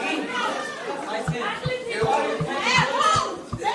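More than a thousand students pour into the school halls after the last bell, a dense babble of many young voices chattering and calling out nearby, with footsteps thudding steadily underneath.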